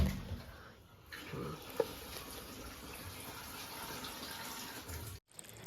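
Water poured steadily into a pot of kaffir limes while making homemade laundry liquid, a continuous splashing rush that runs for several seconds before cutting off abruptly near the end.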